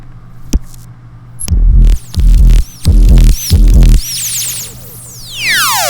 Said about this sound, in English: We got the Reese Distort, which is just a bunch of crazy distortion.